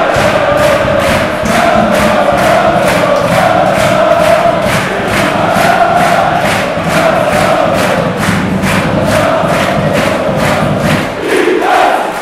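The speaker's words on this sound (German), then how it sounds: "Der Jubel in der Flyer Alarm Arena kannte keine Grenzen." A football stadium crowd at the Flyer Alarm Arena celebrates a 3:2 cup winner from a free kick, a loud sustained roar with rhythmic chanting and steady unison claps or drumbeats pulsing throughout.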